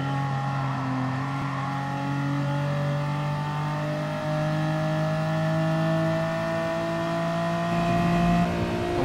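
A BMW engine in the Gran Turismo Sport racing game starts and settles into a steady, loud drone, its pitch rising gradually as the car pulls away, with no talking over it.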